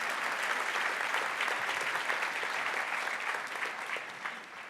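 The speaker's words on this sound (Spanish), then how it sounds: "Dale un aplauso a Dios con todo tu corazón." Church congregation applauding together, a steady, dense wash of clapping that fills the room and holds at full strength throughout, with no voices rising above it.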